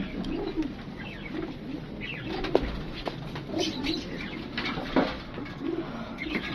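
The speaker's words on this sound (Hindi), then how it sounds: "तदादन कबूतर है, 60-70 कबूतर होंगे तकरीबन" Around sixty or seventy pigeons gathered at a pigeon sale in Lahore coo in a steady low chorus, with a few wing flaps and brief sharp bumps nearby.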